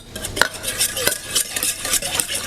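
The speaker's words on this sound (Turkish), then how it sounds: "Zeytinyağımı da biraz ilave ediyorum şöyle. Şimdi bir onu çırpalım." Tomato paste, water and olive oil whisked together in a bowl for a Turkish tray kebab, with rapid, steady scraping strokes of a utensil against the dish and a few sharper clinks, close and moderately loud, with no talk.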